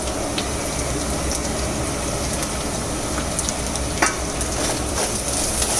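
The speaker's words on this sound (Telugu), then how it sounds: "ఫస్ట్ ఆయిల్లో జీరా జీరా తర్వాత ఆనియన్ ఆనియన్ తర్వాత కరివేపాకు ఇవన్నీ వేసేసి కొంచెం బాగా కలుపుకోవాలా" Cumin, onion and curry leaves stir-fry in oil with a continuous crackling sizzle and occasional scraping stirs. It is steady and close, with no talking.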